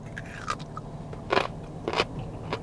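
Crunchy refrigerated mango coated with li hing mui being bitten and chewed, three sharp close crunches spaced about half a second apart with small wet chewing sounds between, no talking.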